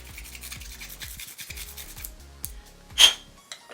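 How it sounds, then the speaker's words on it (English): A steel gun-cleaning brush scrubs inside an arrow footer insert, quick close rasping strokes in a steady back-and-forth rhythm with a sharper scrape near the end, no talk. "you're going to take a steel brush. This is just out of a gun cleaning kit that I have."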